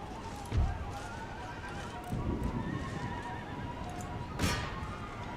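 Horse guards cavalry horses in the Empire: Total War game whinny and neigh amid hoof clatter, with a loud neigh near the start and another near the end over steady battlefield noise.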